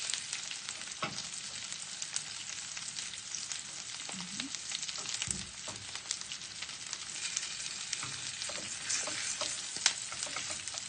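Bulinaw anchovies fry in a pan with a dense, even crackling sizzle, fairly quiet and constant. A few soft spatula touches break it now and then, and no one speaks.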